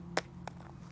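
A Kospet Tank T3 Ultra 2 smartwatch is dropped onto stones outdoors. It lands with a sharp clack and then one softer knock less than a second later, over a steady low background hum.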